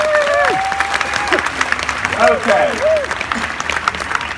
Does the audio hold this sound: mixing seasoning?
no